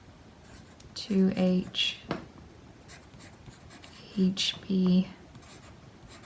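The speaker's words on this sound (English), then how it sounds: "So I'll just go ahead and write that." A graphite pencil writes on paper in two short bursts of close, light scratching strokes while a person talks quietly over them.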